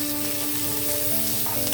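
A tempering of cumin, mustard seeds, dried chilies, curry leaves and coriander leaves sizzling in hot oil, a loud, continuous crackling hiss with a faint steady hum beneath.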